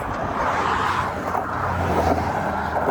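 Busy road traffic streams past a narrow mountain road with zero shoulder, a steady loud engine and tire roar that swells slightly as vehicles go by, with no pauses.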